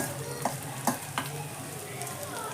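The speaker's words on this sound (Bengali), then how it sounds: "আদাটাকে হালকা নেড়ে নেবো বেশি নাড়বো না হালকাই নাড়বো" Finely sliced ginger stirred gently in a pan over a low gas flame for a carrot and radish pickle: a steady close sizzle with a few soft scraping strokes of the spatula and no talking.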